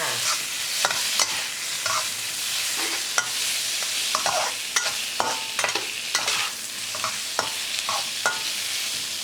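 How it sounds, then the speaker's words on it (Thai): Yardlong beans are stir-fried in a pan, with a steady sizzle under repeated sharp scrapes and clacks of a utensil tossing them at a brisk, uneven rhythm. "แบบบ้านๆผัดไปให้หอมให้สุกเลยนะคะ"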